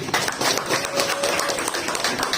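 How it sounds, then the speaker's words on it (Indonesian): Audience applause at a custom motorcycle community talk show in Murung Raya: a dense, steady patter of many hands clapping that holds evenly throughout, with faint voices mixed in. "Tepuk tangan sekali lagi dong."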